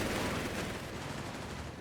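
An MG-42 machine gun in the Company of Heroes 3 strategy game fires in dense, rapid bursts, moderately loud and continuous amid other battle noise.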